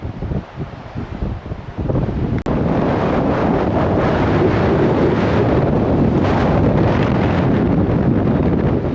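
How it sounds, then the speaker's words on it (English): Strong wind on the Teri La Pass trek in Upper Mustang, Nepal, buffets the microphone in a loud, continuous roar, with gusts rising after a brief quieter start. "Windy!"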